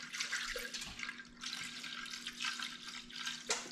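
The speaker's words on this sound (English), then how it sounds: "So I put the almond milk up to this line." Almond milk poured into a blender jar, a steady close liquid pour with a bright trickling wash that runs continuously for several seconds with slight surges, no talk over it.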